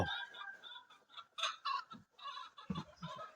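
Chickens cluck and call at a Thai chicken market, several birds near and close together with irregular, overlapping bursts of clucking and no talk.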